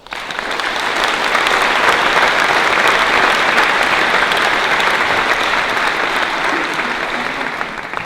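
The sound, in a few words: audience applause at opening ceremony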